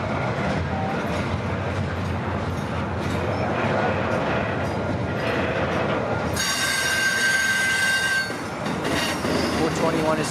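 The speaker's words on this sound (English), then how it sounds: "Symbol on this train is CPKC 112" CPKC freight train 112, running from Vancouver to Montreal's St. Luc Yard, rumbles loudly and continuously past at close range with clattering wheels and a high squeal of wheels on the rails.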